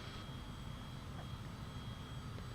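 Cessna Citation CJ4 business jet taxiing in Microsoft Flight Simulator, a steady low engine rumble with a faint high whine, constant and unbroken throughout.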